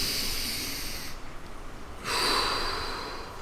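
During a stretching session, a person breathes in deeply and audibly through the nose, a close, airy inhale followed by a short pause and a second long breath.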